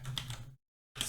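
Short bursts of clicking on a computer keyboard, quick keystrokes close by, broken by a brief silence before a few more taps.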